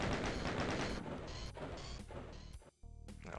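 Rapid, loud bursts of enemy gunfire and impacts crackle in the classic shooter Doom 2, dense and overlapping, then break off briefly before resuming, with no speech over them.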